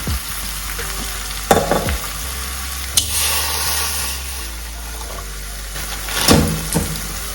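Onions and tomatoes with salt frying in a pan, a continuous sizzle punctuated by several loud spatula knocks and scraping stirs, a low hum running underneath.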